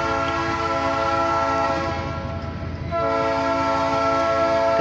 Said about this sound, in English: Got a passenger train.